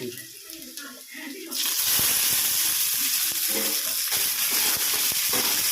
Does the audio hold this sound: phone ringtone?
no